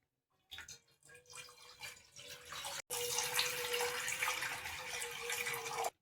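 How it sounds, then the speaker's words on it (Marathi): Two glasses of water pour into a kadhai on the gas for sugar syrup, a steady splashing stream in two bursts separated by a short break, fairly faint and close. "गॅस चालू करून कढई ठेवून 2 ग्लास पाणी टाकून घेणार आहे पाक करण्यासाठी."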